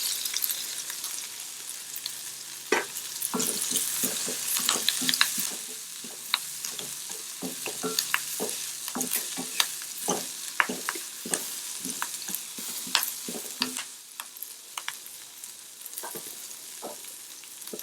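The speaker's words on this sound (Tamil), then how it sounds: "ஒரு 10-15 வெங்காயம், சின்ன வெங்காயம் கட் பண்ணி வச்சுருக்கேங்க. அதுவும் போட்டுக்கலாம்." Green chillies, small shallots and curry leaves fry in hot oil in a pan for a broad bean poriyal, a steady close sizzle broken by frequent sharp crackles and spatters, with no talking.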